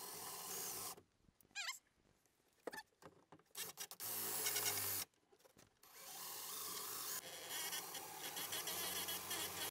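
Drill boring out the rivet heads on an old cup holder in a VW T3 van, with whining bursts of the drill biting metal broken by short pauses and scraping.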